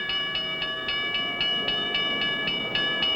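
A train rolls past a railroad crossing at about 40 mph, a loud steady rumble with a regular, rapid clicking beat and a bright ringing tone layered on top throughout.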